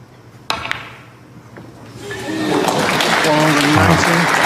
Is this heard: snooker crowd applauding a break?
yes